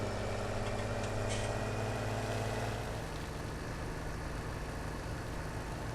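A tractor engine runs steadily in Farming Simulator 17, a loud, continuous low drone with a slight shift in tone partway through, alone without voices.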